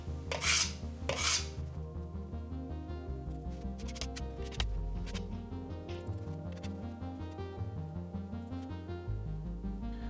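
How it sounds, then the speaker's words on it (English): Filler being pressed and smoothed over nail holes in wall trim with a putty knife, repeated rhythmic scraping strokes, close and clear, with a couple of sharper rasps at the start. "Press it into the hole and make sure you get enough in there."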